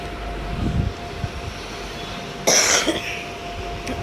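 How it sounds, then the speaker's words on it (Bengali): A short, sharp cough partway through, close and loud, over a steady low hum of background noise from a Minecraft gaming session. "Ignore the Kashi."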